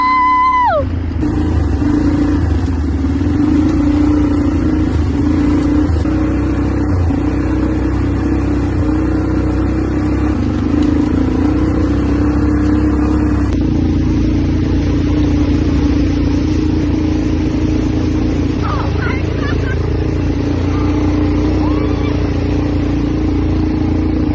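A vehicle engine drones steadily while driving a trail in Albay, with a constant low hum and a shift in tone partway through, and excited voices are heard over it.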